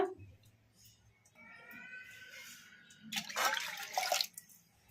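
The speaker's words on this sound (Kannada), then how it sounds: "ನಾವು ಯಾವ ಕಪ್ಪಿಂದ ತೊಗರಿಬೇಳೆ ತೊಗೊಂಡಿದ್ರೆ ಆ ಕಪ್ಪಿಂದ 2 ಕಪ್ ನೀರು ಹಾಕೋಣ." Water is poured from a cup onto washed toor dal for palak sambar, splashing loudly and broadly for about a second and a half near the end, after a quieter stretch with faint tonal background sounds.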